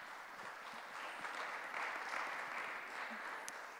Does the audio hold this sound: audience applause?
yes